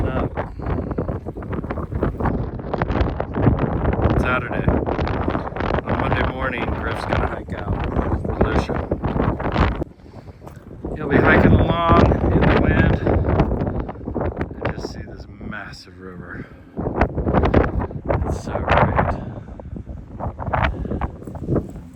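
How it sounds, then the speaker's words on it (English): Strong wind gusts roar across a hilltop near ancient pueblo ruins, buffeting the microphone in loud sustained blasts that briefly ease and return, with people talking through it. "Wind is not letting up."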